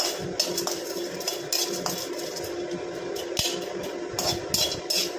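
Curry leaves roast in a pan over high flame while a spoon stirs them, making steady close scraping and occasional light metallic clinks over a continuous sizzling hiss.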